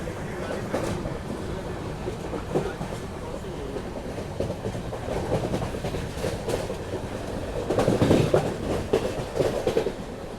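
Karwar to Yeshwantpur Express passes during the coastal Karnataka monsoon with a continuous low rumble and faint rhythmic wheel clatter that swells toward the end, heard at a moderate distance with no speech.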